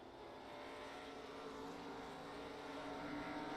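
Race cars roar around the oval at Hickory Motor Speedway in a steady, dense engine drone that builds slightly louder as they pass, heard from a distance with no voices.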